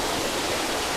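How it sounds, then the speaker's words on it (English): Water trickling into a tropical fish farm vat, a steady close-up wash of splashing with no breaks or voices. "We have water trickling in to make that up,"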